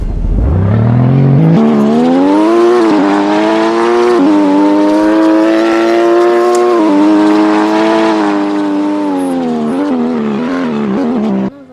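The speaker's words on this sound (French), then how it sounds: "La Porsche" Porsche 718 engine revving up from low and accelerating hard, a loud rising harmonic roar held at high revs for several seconds, with a few gear-change dips before cutting off abruptly.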